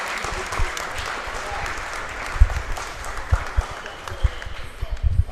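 Spectators at a National Squash League legends match applaud squash great Jahangir Khan with a continuous, moderately loud wash of clapping, punctuated by a few louder thumps and claps toward the end.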